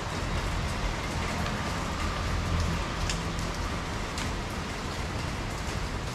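Steady rain falls in a continuous, even hiss with scattered drops and no talking, heard at a moderate level throughout.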